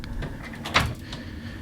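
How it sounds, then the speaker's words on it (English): A closet door in a cruise ship cabin slides open with one short, close swish and a light knock partway through, against quiet room tone. "let me open it for you this side"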